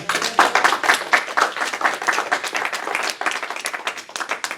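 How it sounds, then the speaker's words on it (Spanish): A church congregation at a Sunday morning service claps together, with fairly sparse, distinct hand claps that stay even and close throughout. "Un aplauso al Señor."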